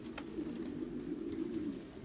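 King pigeons in an 8x10 loft lined with nest boxes make a low, continuous cooing murmur, close and steady, with a few faint chirps above it.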